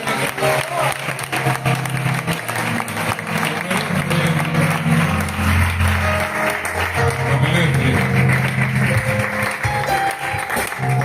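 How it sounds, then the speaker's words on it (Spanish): Congregation applause during a church sermon, sustained clapping from a crowd blended with music or voices underneath, moderately loud throughout. "Ese aplauso al Señor que lo merece."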